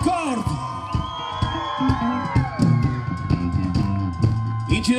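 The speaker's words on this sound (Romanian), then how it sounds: "Gălăgie maximă pentru record!" A concert crowd at a town-day celebration in Fălticeni shouts, whoops and cheers loudly in surging bursts, with some children's voices and music tones ringing underneath.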